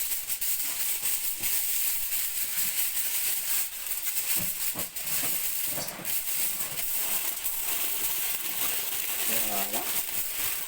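Aluminium foil crinkles and rustles as it is pressed over an oven-baked chicken, a hissy crackling texture running near and steady throughout while someone talks over it.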